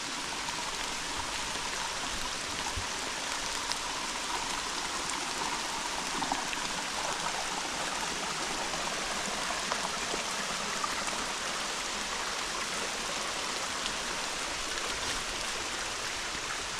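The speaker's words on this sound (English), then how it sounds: "I don't remember this creek" A creek running unusually full after rain on a wet woodland walk, its steady broadband rush of flowing water continuous and fairly close, with no talking over it.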